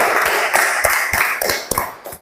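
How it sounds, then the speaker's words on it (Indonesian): A small class group claps for a presenting group in a classroom, with sharp, uneven claps in a short burst that fades out near the end. "Tepuk tangan sekali lagi untuk kelompok 1."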